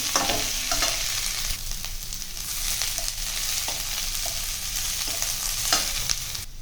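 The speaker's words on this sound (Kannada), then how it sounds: "ಇನ್ನು ಕ್ಯಾಬೇಜು ಈ ಎಣ್ಣೆಯಲ್ಲಿ ಫ್ರೈ ಆದರೆ ತುಂಬ ಟೇಸ್ಟ್ ಇರುತ್ತೆ" Shredded cabbage fries in hot oil for ragi upma, a continuous close sizzle with intermittent stirring scrapes and soft clicks of a spoon against the pan.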